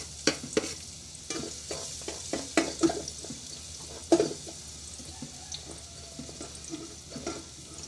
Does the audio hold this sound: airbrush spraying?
no